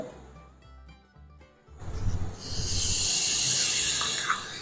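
A pressure cooker on a stove releasing steam. A few soft clinks and quiet noises come first, then a loud, sustained hiss swells and holds steady to the end.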